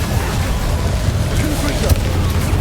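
The Incendio fire spell is cast in the Hogwarts Legacy video game, a loud, dense rumbling burst of fire mixed with game effects that sustains through the clip, with some voice underneath.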